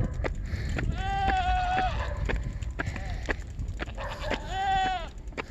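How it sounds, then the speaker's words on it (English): Animal bleating heard near, repeated calls that sound like a sheep, with drawn-out wavering cries among goats and other livestock outdoors. "This one sounds like a sheep."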